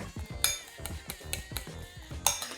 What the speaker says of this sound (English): then we just mix this through with a fork